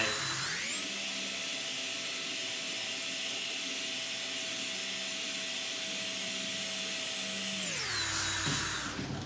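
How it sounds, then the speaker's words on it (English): A handheld drill fitted with a sanding bit whines steadily as it smooths wire-brushed, charred wood, spinning up loudly and close, holding a constant pitch, then winding down near the end. "drill with the sanding bit on the end of it"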